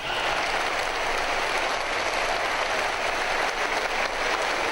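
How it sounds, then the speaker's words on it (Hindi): A standing ovation at a Pakistani political event honoring a daughter of Balochistan seated in the prime minister's chair: dense, sustained applause filling the room, steady and loud throughout with no talk over it. "भरपूर तालियां"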